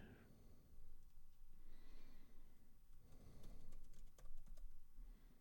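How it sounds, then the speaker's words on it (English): Rapid, irregular clicks of typing on a computer keyboard, soft and close over a steady background hiss, no voices. "Typing."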